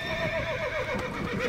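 A horse in the video game Red Dead Redemption lets out a clear, drawn-out neigh with a wavering pitch over a faint background, close and fairly loud.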